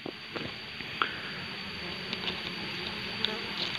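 Wild honey bees buzz faintly and steadily in the background around a bee trap box, with a few soft taps and knocks nearby.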